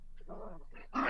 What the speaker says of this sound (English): Dog has something to say.